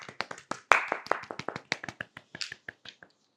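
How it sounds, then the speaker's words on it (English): A small group clapping in a podcast studio, a few sharp, sparse claps in a loose rhythm that fade out after about three seconds. "Round of applause."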